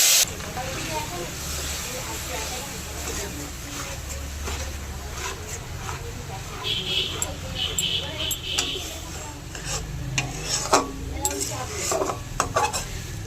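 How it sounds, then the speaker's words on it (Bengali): Coriander paste goes into hot oil with black cumin and sizzles softly, with a spoon clinking and stirring against the pan while someone talks over it. "এবার ধনেপাতা বাটাটা এই তেলেতে দিয়ে দেব।"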